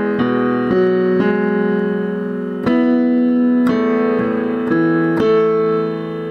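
Piano playing the verse of a song in a clear, close, sustained melody of distinct notes and chords struck one after another at a slow, steady pace, with no talking over it.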